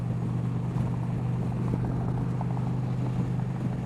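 Indian Roadmaster 112 motorcycle, a 2025 model, cruising down a highway in fifth gear at about 75 mph and 3,000 rpm, giving a steady, continuous engine drone with wind rush and no talking.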